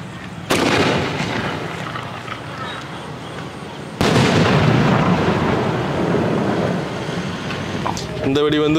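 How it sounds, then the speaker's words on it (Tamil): Two loud night-time blasts from a 4-inch pipe firework, each a sharp crack followed by a long rumbling, crackling tail, with a voice briefly heard at the very end. "இந்த வெடி வந்து வாவுசாரோட வெடி, 4 இன்ச் பைப்பு, நைட்டு பொருத்தக்கூடிய பைப்பு வெடி."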